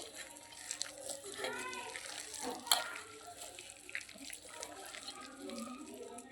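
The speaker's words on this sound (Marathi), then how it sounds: "आता थोडंसं पाणी टाकू आणि हे असं मिक्स करून घेऊ" Water is poured into a chilli-garlic paste for a ridge gourd chutney, giving a steady, close trickle and splash that runs for several seconds, with light clinks and faint background voices.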